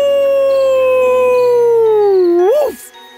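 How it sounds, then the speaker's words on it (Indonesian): A single long wolf howl at the moon, drawn out and steady before bending upward and cutting off, loud and close with a narrating voice near its end. "Dia melolong ke bulan seperti serigala sungguhan untuk pertama kali dalam hidupnya."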